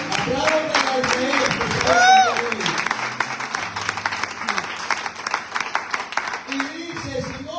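A church congregation claps and cheers during a Spanish-language sermon, a burst of applause that swells at first, then thins into scattered claps and murmurs as the preacher's voice resumes near the end.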